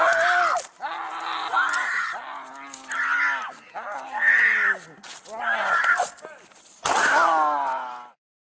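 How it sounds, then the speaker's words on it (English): A man screams at a female police officer while waving a hammer, a series of loud, strained, harmonic-rich yells broken by short pauses, close and alone. "He's screaming at her."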